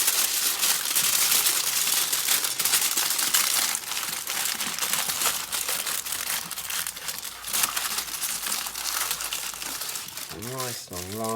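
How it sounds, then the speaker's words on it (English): Sheet of tin foil being rolled up, a long stretch of close, busy crinkling and crumpling that runs throughout, with a brief rising whistle-like tone near the end. "I'm going to roll up some tin foil."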